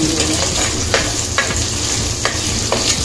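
Shallot paste sizzling steadily in hot oil in a pan, a dense continuous fry with a few soft spoon scrapes and stirs breaking through.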